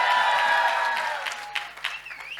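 Audience applause, a burst of clapping that starts loud with a bright tonal whine over it, then thins out and fades into scattered claps.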